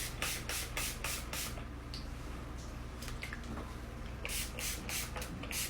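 Several quick hissing bursts from a water spray bottle during body sugaring, fired in rapid clusters at the start and end with a pause between, close and fairly soft.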